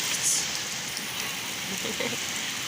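Rain patters and drips steadily during a summer thunderstorm in Ukraine's Rivne region, a soft, even hiss of drops falling on surfaces that goes on without a pause.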